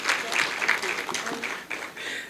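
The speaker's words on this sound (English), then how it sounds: "and please give her a round of applause." Guests at a charity foundation launch break into applause, a moderate bed of many hands clapping with voices audible over it, dipping briefly before continuing.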